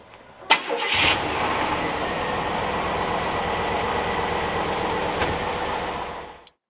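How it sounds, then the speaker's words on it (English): A 1997 Chevy Silverado engine cranks and starts after a starter replacement. A sharp click comes first, then a brief crank, and the engine catches and idles steadily and close before cutting off at the end. "We're going to go ahead and see if this car starts up"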